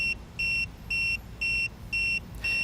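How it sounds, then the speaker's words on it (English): A TST TPMS tire pressure monitor for an RV gives a loud, high electronic alarm beep, repeating six times at an even rhythm of about two per second over low background hum, with no talking. "you will get a beeping because none of our tire sensors are in right now"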